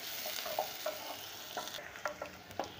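Finely chopped onions sizzle steadily in a pan for namkeen mutton, with a handful of distinct stirring scrapes marking the strokes, close and moderately loud, no talking.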